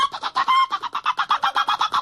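A chicken clucks in a quick, regular series of about a dozen close, loud clucks, with no voices over it.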